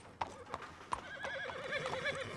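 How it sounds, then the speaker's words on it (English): A horse in the Red Dead Redemption video game clip-clops with a few distinct hoof strikes, then whinnies and neighs in a long, warbling call, loud and close with no talking. "Fine horse you got there."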